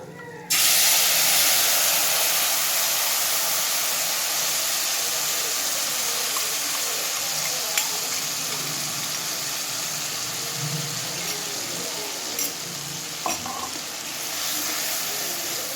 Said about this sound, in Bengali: এবার ফোড়নটা দিয়ে যখন সুন্দর একটা গন্ধ বেরোতে শুরু হবে, তখন ওই ফেটিয়ে রাখা মশলাটা এর মধ্যে দিয়ে দিচ্ছে